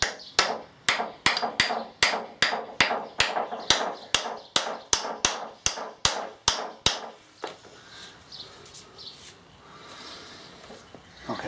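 A hammer taps a shaft seal onto the gearbox shaft of a VW Beetle with a run of about fifteen sharp, evenly spaced close knocks, followed by quieter handling noise.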